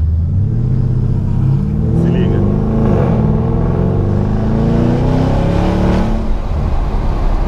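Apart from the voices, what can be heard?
Porsche Panamera engine revving while accelerating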